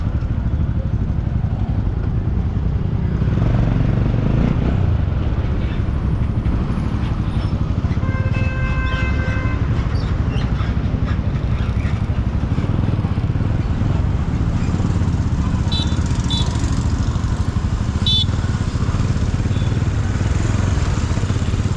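A group of four or five motorbikes rides along a road, with continuous loud engine drone and road noise throughout, a brief horn toot partway through and scattered higher engine revs near the end.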